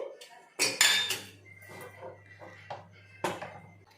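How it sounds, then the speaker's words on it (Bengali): Metallic clanks and rattles of a pressure cooker lid being handled and lifted after the steam has released, a cluster of knocks early on and another sharp clank near the end. "প্রেসার কুকারের ভাপটা কমে গেছে। এখন ঢাকনাটা খুলে দিচ্ছি"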